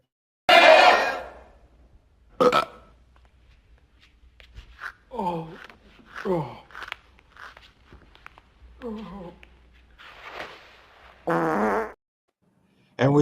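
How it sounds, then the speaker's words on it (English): A sound bumper of comedic fart noises, several loud bursts spaced across the span with some quieter vocal-like sounds between them. "We got people farting."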